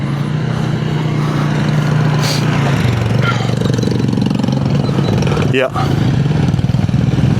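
Two motorcycles, a 2001 Yamaha TW200 and a KTM 390 Enduro R, idle nearby in a steady, loud, thumping drone while people talk briefly over the running engines.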